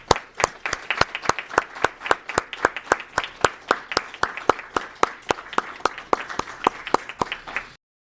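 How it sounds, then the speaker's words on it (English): Round of applause for award recipients at a school board recognition event, a few sharp, evenly spaced claps ringing out clearly and alone for about eight seconds before cutting off. "give all of our recipients a large round of applause."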